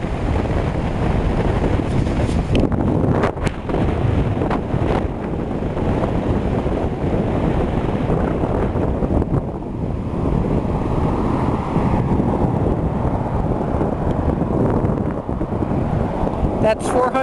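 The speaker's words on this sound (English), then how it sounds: "it's windy." Steady heavy wind buffets the microphone throughout, a constant low roar with occasional gusty thumps and no clear voices.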